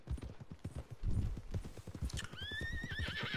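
In Red Dead Redemption 2, a horse's hooves thud steadily and loudly up close, then the horse lets out a long, wavering neigh over the final second.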